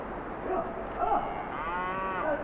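A cow moos several times nearby, drawn-out lowing calls that rise and fall over a few seconds in a quiet rural setting.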